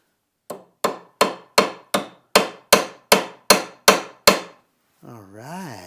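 A cotter key being tapped down into a lock cylinder fixture with a hammer: about eleven sharp, close metallic taps in a steady, slightly quickening rhythm, followed by a brief wavering tone.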